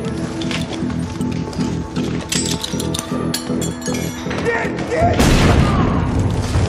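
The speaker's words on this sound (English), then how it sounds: "If you can hear them, but you can't shoot them, you can probably grenade them. Drop an egg down there, laddie." A grenade explodes in a video game: a loud, close boom near the end, preceded by rhythmic clattering and sharp pops.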